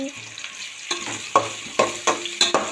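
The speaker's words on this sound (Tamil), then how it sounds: "சோம்பு பட்டை இஞ்சி பூண்டு தட்டினது அப்புறம் வந்து வெங்காயம் பெரிய வெங்காயம் எல்லாம் போட்டு வதக்கிக்கணும்" Fennel, cinnamon sticks, crushed ginger-garlic and big onions sautéing for chicken gravy, a steady sizzle broken by repeated scraping stirs of a spoon against the pan, close and fairly loud, with no talking.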